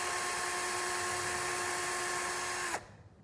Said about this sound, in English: So I'm just going to go in with the drill again.